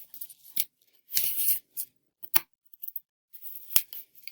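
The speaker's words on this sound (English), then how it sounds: "And then I am going to cut my yarn and tape that end on the back as well." Scissors snip through yarn while a loom is set up for weaving: a handful of sharp, crisp snips spaced irregularly, with one longer rasping cut near the start, all close and alone in a quiet room.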